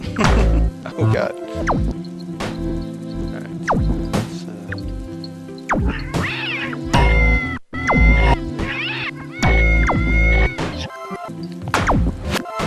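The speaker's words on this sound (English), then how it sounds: "Do not ask me why the bunnies meow, but for some reason they meow." Bunnies in the video game Braid give repeated cat-like meows amid game thuds, whacks and music, with someone talking over the sounds throughout.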